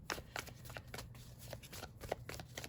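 Tarot cards being shuffled by hand, a quick series of close, crisp riffling and slapping bursts in an irregular rhythm, quiet and alone.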